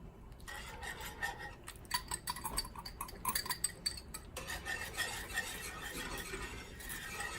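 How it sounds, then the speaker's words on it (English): A spoon scrapes and clinks against a pot in quick, irregular strokes, stirring a cornstarch mixture into a boiling honey mustard sauce at close range, with a faint bubbling hiss underneath. "And stir it around till it gets nice and thick."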